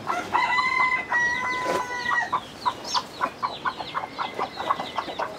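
Chickens cluck and a rooster crows on a farm where partridge and quail eggs sit under a broody hen; one long crow runs early, followed by a steady run of close, sharp clucks.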